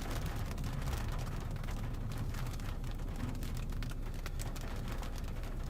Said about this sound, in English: There's just too much rain.